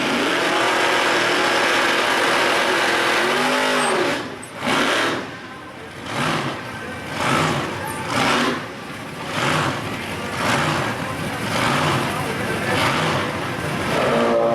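A 1970 Chevrolet Camaro and a 1969 Camaro idle at a drag strip, their engines rumbling in a low throb before they pulse and rev in repeated surges, with crowd and announcer voices beneath.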